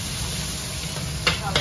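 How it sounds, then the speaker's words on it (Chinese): Ginger and garlic hitting hot oil in a wok for a quick stir-fry, a steady close hiss of frying with two short bright scraping bursts near the end. "放点姜蒜，"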